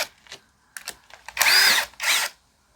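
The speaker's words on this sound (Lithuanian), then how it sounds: "Imam suktuką." A power screwdriver drives a screw into wood. A few short, stuttering whirs lead into two longer, loud, high-pitched motor runs, with brief pauses in between.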